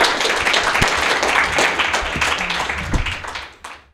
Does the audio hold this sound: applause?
yes